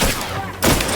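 Gunfire in the video game The Outer Worlds 2, a loud dense burst of rapid shots filling the moment, briefly dipping then surging again.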